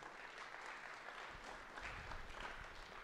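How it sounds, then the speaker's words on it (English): An audience at a school presentation for seniors gives a round of applause: steady, fairly faint clapping that continues for about three seconds without a break. "Okay, give them a round of applause."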